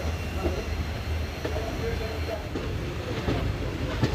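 An express train rolls out of Ferozepur Cantt railway station, its steady low rumble and rattle of carriages filling the whole stretch with faint clicks of wheels over joints.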